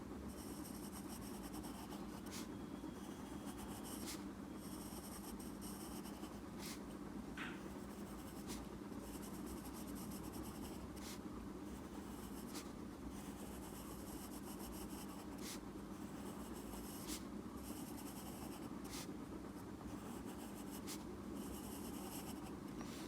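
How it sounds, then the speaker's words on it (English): Sharp pencil scratching steadily on paper while drawing rows of small, close-set dentinal tubules, with periodic faint taps between stroke runs, close and continuous with no talking. "So you keep drawing dentinal tubules as neatly as you can, close to one another"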